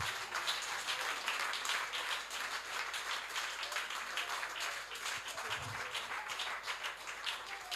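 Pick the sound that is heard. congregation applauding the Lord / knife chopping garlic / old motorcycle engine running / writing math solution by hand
congregation applauding the Lord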